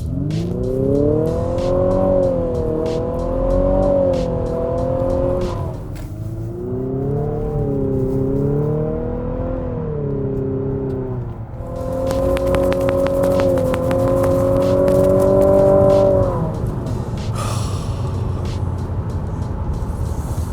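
A 2022 Infiniti QX55 engine hums and rises in pitch through several revs, its smooth tone piped in artificially and sounding synthetic, swelling loud and then fading.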